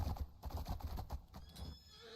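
A horse in the video game LoreRim 5.0 snorts and whinnies amid quick clip-clopping hooves, short and fairly close.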